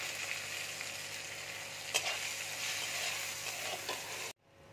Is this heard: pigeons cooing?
no